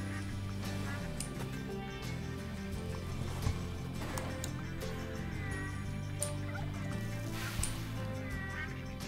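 Turkey gobbling in the farming game Farm Together, several warbling gobble calls at intervals over a steady backdrop of game music and ambient farm sounds.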